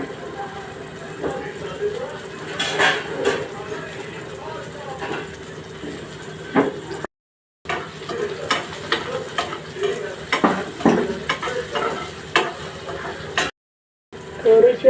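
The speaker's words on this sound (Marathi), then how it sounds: "टोमॅटो छान नरम होईपर्यंत परतून घेते" Tomatoes and slit green chillies sautéed in a pan, with a steady low sizzle and repeated scraping stirs of a spoon, some louder clatters, and two brief dropouts.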